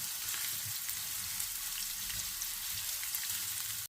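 Finely chopped vegetables frying in a pan until translucent, a steady close sizzle with crackly spitting throughout and no voices.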